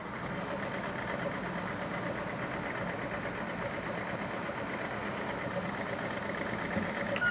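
A sewing machine stitches a pleat on a round-cut cotton petticoat, giving off a steady, continuous mechanical whir that runs unbroken the whole time with no talking.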